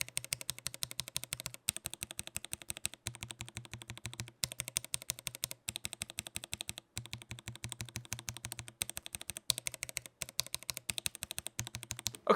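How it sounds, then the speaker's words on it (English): Keys on a mechanical keyboard are typed in quick, even runs, comparing stock keycaps against pre-lubed ones: crisp, close clicks and clacks in steady bursts with short pauses between runs. "let's get just a sound comparison and feeling test"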